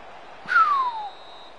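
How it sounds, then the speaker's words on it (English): A single sharp referee whistle blows for half-time in the FIFA 16 football video game, a short clean tone that slides downward and fades in about half a second, heard alone over a quiet background. "And there we are, half-time whistle."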